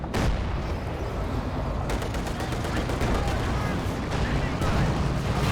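A KV-8 tank opens fire amid a Company of Heroes 2 battle, loud cracking bursts and booms layered over continuous battlefield gunfire with no gaps.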